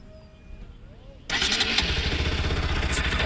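A motorcycle in neutral is switched on and its engine starts abruptly after a quiet moment, then runs with a loud, steady, close-up rumble.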